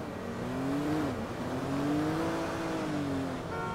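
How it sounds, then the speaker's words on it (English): A loud car engine in Grand Theft Auto 5 revs and drones continuously, its pitch rising and dipping slightly as it idles and revs nearby, with no talk. "That is a very loud car."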